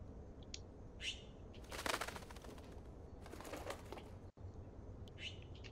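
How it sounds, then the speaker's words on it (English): Trapped bird in the Life Is Strange video game flapping its wings indoors, with faint bursts of fluttering and a few chirps against a low steady background hum. "What can I do to let the bird out?"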